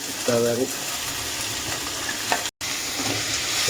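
Onion, tomato and green peas sauté together in a pan for a vegetable kurma, giving a continuous broad sizzle with light stirring scrapes and a brief tonal sound early on, under low background noise.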